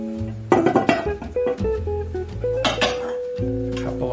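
Ceramic Valentine serving bowls and platters, Temp-tations stackable bakeware, clink and knock together as they are unpacked, making a run of close, bright taps and rattles with a few louder clatters.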